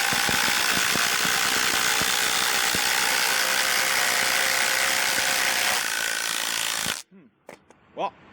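Masterforce and Ryobi brushless impact drivers driving bigger bolts together, a loud continuous hammering rattle for about seven seconds that stops abruptly, followed by brief voices.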